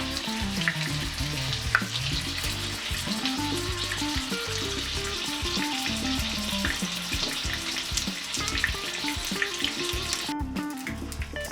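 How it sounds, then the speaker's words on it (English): A salmon fillet sizzles in a frying pan, a dense crackling hiss layered with faint kitchen clatter, steady and fairly close with no voices. "So our fish has been frying on one side for about 3 minutes"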